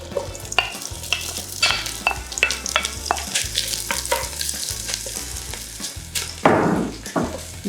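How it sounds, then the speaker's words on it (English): Steady, loud sizzling of onions frying in olive oil, crackling continuously with sharp pops and a few clinks of a utensil stirring the pan. "We'll let it sizzle for a little bit"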